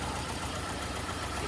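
The engine of a Toyota Altis with lost compression in cylinders 3 and 4 runs nearby, a dense, rough rumble that stays steady and fills the whole moment without any voices.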